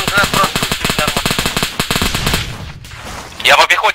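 Rapid machine-gun bursts fire in ArmA 3 combat, a loud regular rattle of shots for about two seconds, then quieter rumbling and a brief burst near the end as distant gunfire continues.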